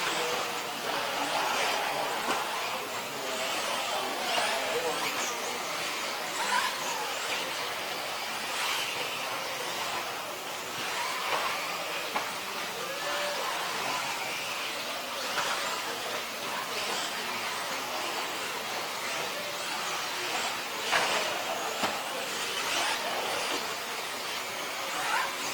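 Several 1:10-scale electric off-road RC cars race around a track at the 2015 ROAR Nationals qualifying. Their whirring and buzzing mixes into a steady wash of distant noise, with occasional louder passes and no clear talk.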